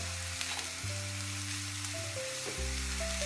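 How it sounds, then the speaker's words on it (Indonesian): Bakcang filling stir-fries in plenty of oil with a steady, close sizzle and occasional stirring, under a constant background hum and with no talking. "taruh minyaknya agak banyak ya, supaya tumisannya jangan lengket-lengket"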